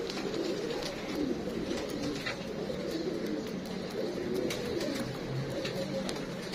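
Saharanpuri pigeons, an Indian breed, coo softly in a low, murmuring bubble that keeps going throughout, with faint chirps and rustles from the loft around them and no speech.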